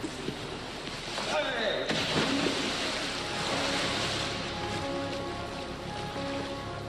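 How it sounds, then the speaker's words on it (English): Choppy water waves churn and slosh steadily in an indoor lifeboat training wave tank, a loud continuous wash with a brief swell of splashing early on and no talk. "It's used to train lifeboat teams to deal with a range of different kinds of water waves."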